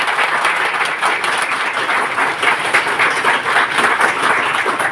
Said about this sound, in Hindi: उनके लिए एक शानदार ताली होनी चाहिए। मिस्टर अरुण चौधरी सर के लिए।